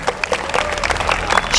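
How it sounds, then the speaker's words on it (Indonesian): Children in a morning religious lesson clap their hands together for two classmates, a dense, steady patter of many small hands held close by for a brief moment. "tepuk tangan dulu buat dua teman kalian."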